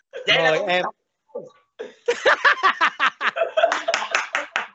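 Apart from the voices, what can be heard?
audience clapping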